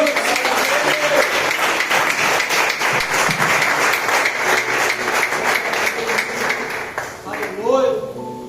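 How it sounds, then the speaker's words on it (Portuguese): Sustained applause from a church congregation fills the space, steady and loud, with clapping tapering off near the end. "E se você está comigo nessa palavra, dê uma linda salva de palmas para Jesus."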